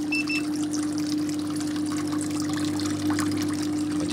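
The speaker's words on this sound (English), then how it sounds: "A small pump for circulation temperature, circulation." A small circulation pump in a geothermal hydroponic strawberry system, with a steady low hum under continuous trickling and pouring water, close and constant with no talk.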